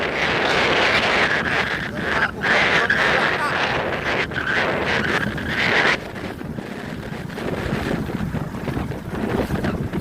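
Strong wind buffets the microphone at a fishing spot with a northerly breeze, a steady loud roar with gusty surges throughout, easing slightly partway through.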